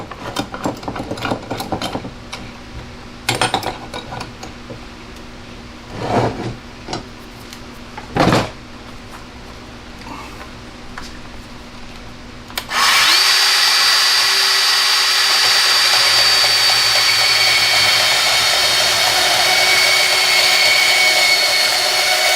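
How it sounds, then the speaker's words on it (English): A RIDGID 18-volt compact band saw starts up partway through and runs steadily, loud and close, cutting 10-gauge aluminum; the motor hum and blade whine follow several earlier clunks and knocks of handling. "let's see how fast it'll cut aluminum"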